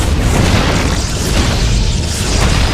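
Protoss photon cannons are destroyed in a StarCraft 2 match during a GSL tournament, a dense, continuous rumble of booming explosions and crashing impacts, loud and close throughout.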